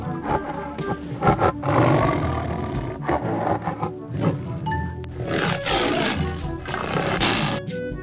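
A toy tiger gives a long, loud recorded roar, harsh and sustained, with a few brief pauses and rising growls throughout, heard alone.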